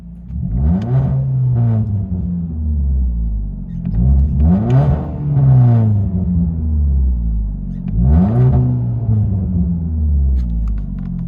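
Inside a 2014 Ford Fusion four-cylinder with muffler and resonator deleted and a straight pipe, the engine rises and falls through three loud, deep revs, each swelling to a rasp and dropping back to a rumbling idle.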